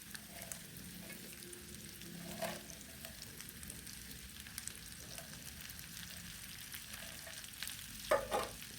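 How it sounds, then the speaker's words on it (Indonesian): Cabbage and bok choy stalks stir-fried with carrot for fried vermicelli, giving a soft continuous sizzle with faint scrapes of stirring and a brief sharper clatter near the end. "Setelah itu dioseng-oseng kembali semuanya sampai tercampur"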